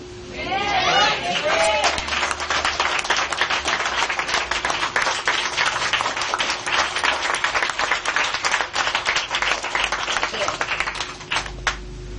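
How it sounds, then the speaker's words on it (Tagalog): Church congregation clapping at a religious service, distinct sharp handclaps in a fast uneven rhythm over a steady hum, with a voice speaking briefly at the start and the clapping thinning toward the end. "Huwag masyadong habaan yung palakpak ha"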